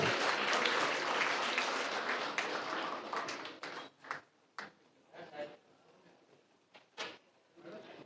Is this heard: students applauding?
yes